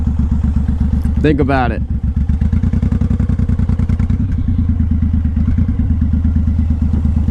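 A Suzuki M109R Boss cruiser motorcycle idles nearby with a deep, loping pulse that stays steady throughout, while someone talks briefly over it.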